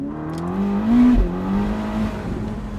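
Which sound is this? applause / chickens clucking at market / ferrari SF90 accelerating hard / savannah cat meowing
ferrari SF90 accelerating hard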